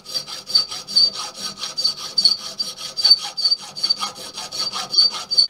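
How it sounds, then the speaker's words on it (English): A steel scriber scrapes a radius onto metal stock in quick, even back-and-forth strokes, a close, dry rasping rhythm of about six strokes a second, with no talking. "I'm now scribing a radius ready for profiling"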